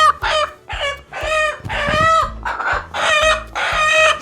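A broody farm hen clucks and squawks in repeated loud, close bursts, an agitated rhythmic sequence of calls with no talking.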